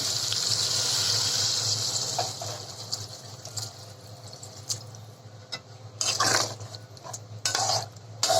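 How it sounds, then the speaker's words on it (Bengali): Water is poured into a cooking pan of fried potatoes, a close gushing splash followed by a hissing sizzle, with clinks of a spoon against the pan. "এখন পানি দিয়ে দেবো।"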